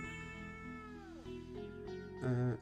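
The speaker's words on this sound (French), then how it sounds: "Elle est derrière l'ordinateur et elle me miaule dessus quoi." A cat meows insistently from behind a computer indoors, a fairly clear drawn-out call heard over steady background music.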